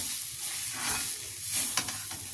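Radish paratha filling is stirred in a hot pan, a constant sizzle and hiss with soft scraping sweeps of the spoon recurring every half second or so, close and fairly loud, with no voices.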